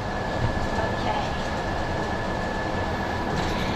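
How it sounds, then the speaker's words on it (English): Seen from the front seat of a moving city bus in China, the interior carries a steady, loud rumble of engine and road noise with a faint high whine. "So this is what it is to sit on the front of the bus in China."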